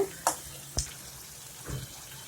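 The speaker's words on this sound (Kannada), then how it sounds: "ಈಗ ಫ್ರೈ ಆಗ್ತಾ ಇದೆ" Tomatoes frying with salt in a pan: a few crisp crackles and clicks, spaced out over a faint, steady sizzle, with a soft stirring scrape near the end.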